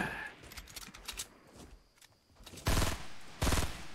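Gunfire in the Fortnite battle royale video game: scattered quick shots and clicks early, then two loud, heavy bursts of fire near the end, with faint shuffling in between.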